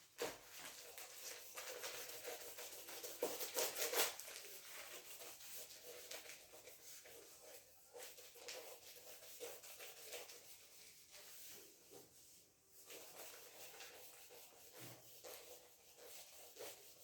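Rubbing writing off a board in a classroom gives a faint, steady scrubbing hiss that swells and eases in strokes for several seconds, close by, with no talk.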